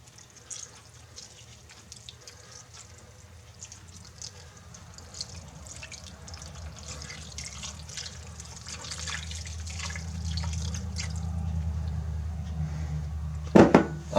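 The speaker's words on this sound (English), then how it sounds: "chicken broth and 2 cups of the chicken broth, and I pour it over the chicken" Chicken broth poured over chicken drumsticks in a pot for a drumstick stew, a soft trickling and splashing liquid stream that builds steadily louder, ending with a brief clatter.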